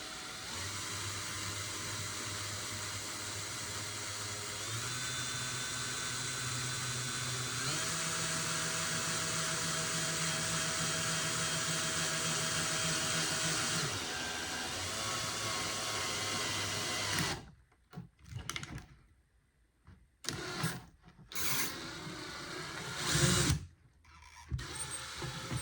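A steady high-pitched electric drill whine, drilling holes in a Ghostbusters proton pack prop, runs continuously, shifting pitch slightly, then stops and starts in short bursts near the end.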